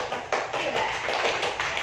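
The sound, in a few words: applause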